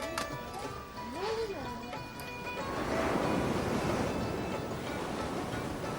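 Ocean waves wash and roll steadily on the Coromandel Coast of India, building into a louder broad surge of surf after a few seconds, with a faint voice underneath early on.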